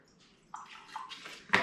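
A small amount of vinegar poured into a homemade fruit fly trap, giving a soft trickling splash that builds to a brief louder gurgle at the end, in a quiet off-grid homestead kitchen.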